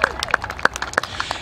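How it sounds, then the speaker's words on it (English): A crowd at the Orthopedic Cup polo match on Bryn du Field claps for a round of applause, with scattered sharp hand claps close by and some voices murmuring underneath. "Let's everyone give Mark a big round of applause."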